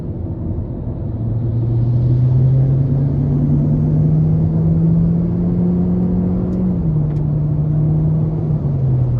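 A 2024 Hyundai Elantra SEL with a 2.0-litre naturally aspirated four-cylinder and IVT accelerates hard from inside the cabin: a loud, steady engine drone climbs smoothly in pitch, holds, then eases off near the end.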